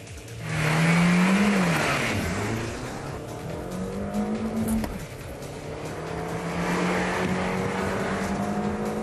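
A stock car with traction control on revs up hard from rest, pitch climbing through several gear changes as it accelerates loudly, with some tire noise.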